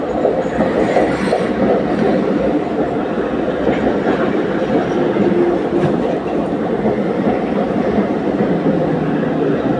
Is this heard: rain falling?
no